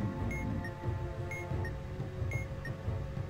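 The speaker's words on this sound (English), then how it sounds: "I'm gonna turn off the alarm clock, that's really annoying." Alarm clock ringing in the bomb-defusal video game Keep Talking and Nobody Explodes, a repeating electronic beep pattern pulsing roughly once a second over steady background game noise, no talk.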